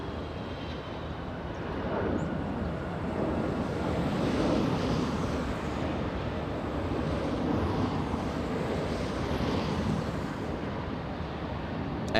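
Steady, loud roar of an airliner landing at LAX airport, a broad jet rumble holding evenly for about twelve seconds with a slight swell in the middle, heard from outside with no voices.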